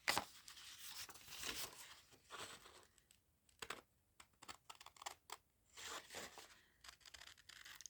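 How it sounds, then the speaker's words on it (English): Quiet, close snips and papery rustles in irregular bursts, with short pauses between cuts. "the pieces of paper are actually falling away instead of getting stuck up on my scissors"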